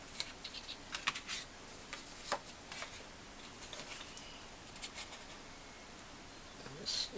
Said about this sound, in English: I'm going to take just a snip off of these edges just so we don't have any overhang.